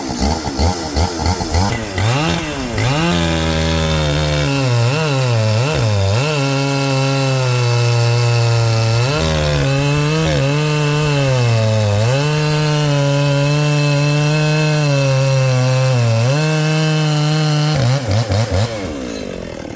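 A large-frame 77 cc vintage chainsaw revs and bogs as it cuts through wood, a loud continuous buzzing snarl with rising and falling pitch, close up for nearly twenty seconds.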